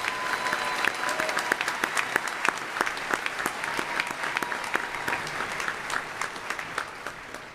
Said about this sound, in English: Please join me in a round of applause for both of our doctoral graduates